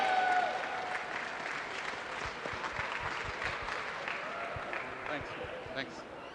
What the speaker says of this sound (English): Please give a big round of applause once again to all of them.